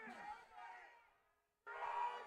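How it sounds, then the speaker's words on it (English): A home crowd at a varsity high school football game booing and yelling in a loud swell that fades off, then surges back sharply, with a commentator talking over it. "And boos loud from this West crowd"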